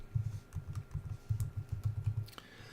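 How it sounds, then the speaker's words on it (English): Keys clatter on a computer keyboard in quick bursts of typing, close and fairly quiet, with short pauses between groups of keystrokes. "So we type that in"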